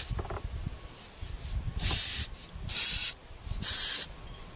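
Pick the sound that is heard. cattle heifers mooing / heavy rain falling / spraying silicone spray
spraying silicone spray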